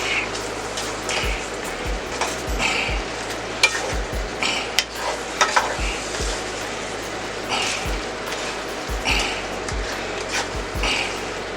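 Brown sugar and butter are stirred in a pan with a spoon, giving repeated scraping knocks against the pan in an irregular rhythm over a soft bubbling sizzle, close up with no talking.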